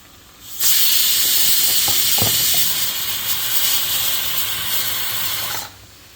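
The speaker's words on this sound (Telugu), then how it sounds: "కలిపిన తర్వాత చికెన్ కూడా వేసేసుకుంటాం" Chicken hits a hot pan of spice masala for a coconut chicken curry, setting off a sudden loud, steady hiss that begins abruptly, holds evenly with a few scraping knocks, then cuts off.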